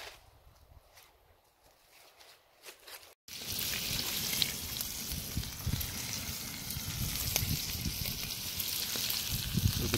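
Bacon frying in a pan at a canoe fishing campsite, a steady dense sizzle that starts abruptly after a few quiet seconds and continues loud and close to the end.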